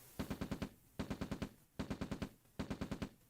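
Rifle guards firing in the strategy game OpenRA Red Alert: four evenly spaced bursts of about five rapid gunshots each, crisp and moderately loud with no talk.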